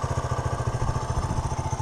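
A Honda CT90 motorcycle's small engine idles steadily nearby, its quick even putter thumping low and regular with no other sounds.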